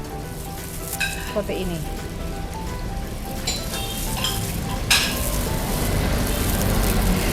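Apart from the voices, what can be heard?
boiling water in a steamer pot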